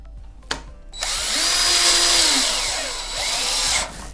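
Power drill driving 1/4 inch structural screws into a wooden floor joist, a sustained loud whirring drive of about three seconds with pitch dipping as the screw bites, then a brief snug at the end; a click precedes it.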